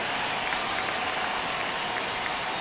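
A baseball stadium crowd at a Blue Jays vs. Yankees game in the ninth inning roars and claps in a steady, dense wash of cheering.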